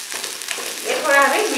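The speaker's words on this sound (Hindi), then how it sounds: "ऑयल थोड़ा सा गर्म होने के बाद हम इसमें डालेंगे ये ऑनियन। ऑनियन को हम ऐसे सौते करेंगे।" Onion sautéing in hot oil over a gas flame gives a steady, close sizzle that swells into a louder, crackling fry as the pan heats, with no speech.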